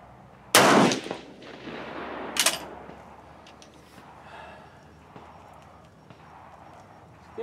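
K31 rifle firing reloaded GP11 cartridges at an outdoor shooting range, two sharp loud reports about two seconds apart, each with a brief echoing tail, followed by quieter range noise.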